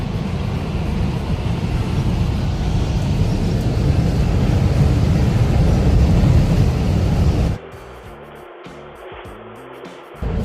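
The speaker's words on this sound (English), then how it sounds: "Like it is driving in a vintage van." A 1983 Autovilla vintage RV van driving on the road, a loud steady engine and road rumble that drops away abruptly near the end.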